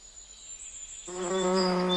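Bees buzz in a garden. A faint hum swells into a loud, steady, close buzz about halfway through and holds to the end.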